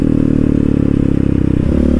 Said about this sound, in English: we have the Big Gun dual exhaust installed on the Raptor, and honestly, first impression, just holy shit, this thing is loud